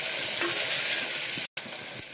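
Baby potatoes fry with salt in a pan, giving a steady, close sizzle that breaks off for a split second and then resumes, with no voices.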